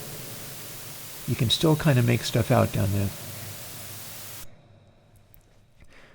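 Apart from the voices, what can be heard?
TPDF dither noise reducing audio to about 4 bits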